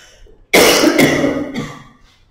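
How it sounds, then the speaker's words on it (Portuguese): A woman's cough bursts out suddenly mid-lecture, one loud harsh cough followed by a couple of trailing rougher coughs that fade out, alone with no talking. "Pausa para tosse."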